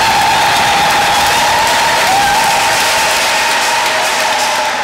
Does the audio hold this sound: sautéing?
no